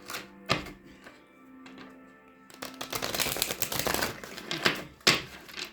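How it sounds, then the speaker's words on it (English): A tarot deck is handled and shuffled, a few soft taps and riffles followed by a dense, rapid fluttering of cards close by, with no talking. "Let me get you some good shuffles in"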